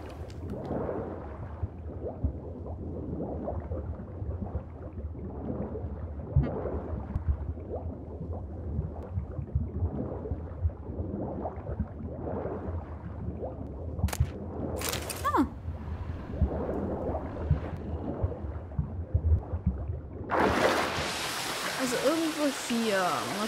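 Geralt swims through water in The Witcher 3, a steady wash of sloshing, splashing game water running throughout, with a brief sharp burst midway and a louder rush of noise near the end.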